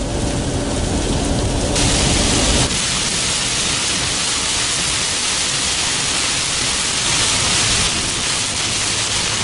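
Loud, steady rush of heavy rain in Louisiana, a dense hiss that never lets up, close by and without any voices.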